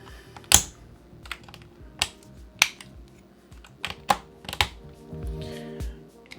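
Typing on a CYBER01 gaming keyboard with magnetic switches: a series of sharp, close keystroke clicks at irregular intervals, some louder than others, with a quicker cluster near the end.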